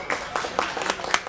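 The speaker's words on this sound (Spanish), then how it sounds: "Fuerte el aplauso para él en Cantarred 2019" Applause for a singer at the Cantarred 2019 awards event, a light scattering of claps from a small audience, fairly faint and brief with irregular peaks.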